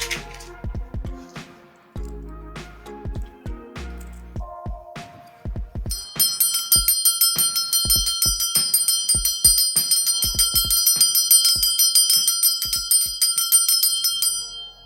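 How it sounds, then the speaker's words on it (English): A small hand bell rings repeatedly with bright metallic strikes, first scattered, then a sustained shimmering ring that carries on over several seconds. "And then I will be ringing my bell."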